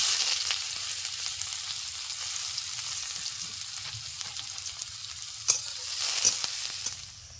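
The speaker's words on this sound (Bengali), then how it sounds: "তেল গরম হয়ে গেছে দিয়ে দিচ্ছি পেঁয়াজ কুচি" Chopped onion frying in hot oil with a steady, loud hiss of sizzling, close up, with a few faint stirring knocks near the end and no talking.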